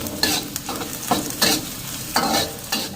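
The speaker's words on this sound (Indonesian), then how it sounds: "Nah, ini kita tumis supaya nggak ada bau langu dan lebih harum ya." Ginger, star anise, cinnamon and lemongrass sauté in a pan, a close, loud sizzle broken by several sharp stirring scrapes and clacks of a utensil, with no voices.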